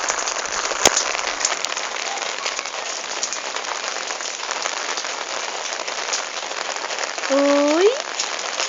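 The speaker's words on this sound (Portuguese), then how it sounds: "Olha a chuva que tá" Heavy rain falls steadily in São José dos Campos, a close, unbroken hiss of drops, with a sharp click early on and a brief rising whine near the end.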